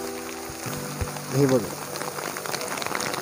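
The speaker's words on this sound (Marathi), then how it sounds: "फुल पाऊस आलाय" Heavy rain pours down at Pahine waterfall near Trimbakeshwar, Nashik, as a dense, constant patter close by, with a person speaking briefly over it.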